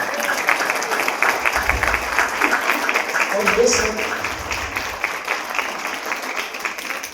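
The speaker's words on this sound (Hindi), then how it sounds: "जितने गेस्ट चीफ गेस्ट बैठे हैं जोर से ताली बजाएं" An audience at a yoga and meditation festival at the Mahabodhi International Meditation Centre claps loudly for the seated guests, a sustained wash of applause that keeps going under someone speaking over it.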